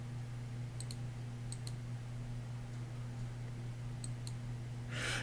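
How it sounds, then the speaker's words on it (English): Computer mouse clicks while selecting shapes in Adobe Illustrator, a few faint paired clicks spread over several seconds above a steady electrical hum. "click on Mr. Heart"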